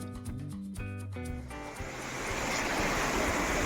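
Ocean surf rolls in at Kelshi beach on the Konkan coast near Dapoli, Ratnagiri; a broad, steady wash of breaking waves swells up after a brief tonal passage and grows fuller toward the end.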